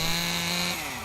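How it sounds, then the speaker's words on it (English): A chainsaw in the video game Death Mark, a brief steady motor drone with a tonal whine, close and continuous for about a second. "Nice chainsaw."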